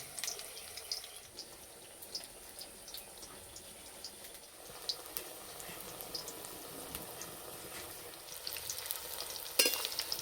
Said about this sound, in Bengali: একটু সময় ধরে আস্তে আস্তে ভেজে নেব,